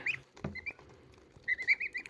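Goslings on a farm give thin, high peeps in short bursts, with a pause and a soft thump before a quicker cluster of calls close by.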